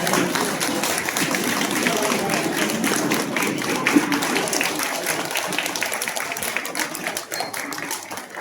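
An audience at a Marathi literary felicitation claps for speaker D. L. Kamble in a sustained, dense round of applause, steady throughout and slowly thinning toward the end, with a crowd murmur underneath.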